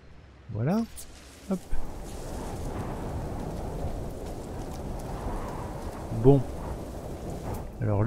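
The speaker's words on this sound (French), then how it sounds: "tempête, ça va deux minutes" Thunderstorm with rain in the video game No Man's Sky: a steady wash of falling rain with brief low rumbles, while a person talks at a few moments over it.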